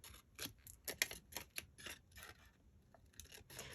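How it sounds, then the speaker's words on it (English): Scissors snip the corners off a paper tag in a quick run of sharp, close crunching cuts, some louder than others, with no talking. "let's cut these corners off."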